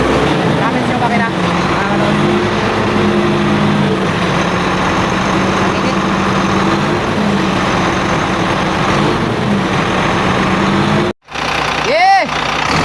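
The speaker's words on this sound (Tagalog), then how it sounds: "Guys, Cummins engine." A Cummins diesel engine runs at a steady idle close by, a low rumbling drone with a faint mechanical hum, then a brief dropout and a short rising whine near the end; someone talks over it.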